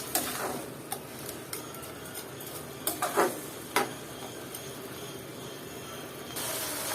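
Jackfruit seeds and prawns being stir-fried in a pan with vegetables, a soft steady sizzle under occasional light spatula taps and scrapes, a small cluster of clinks near the middle.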